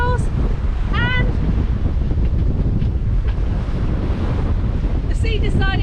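Sea waves splash against a sailing boat at sea amid heavy wind rush, a broad continuous wash of water with a few brief voice sounds at the start and end.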